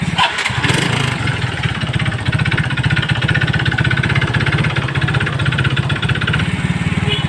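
A Raider J FI motorcycle engine running with a noisy ticking fault: a close, loud, rapid, steady mechanical chatter and rhythmic pulsing, like an idle with a persistent tick, continuing throughout with no talking.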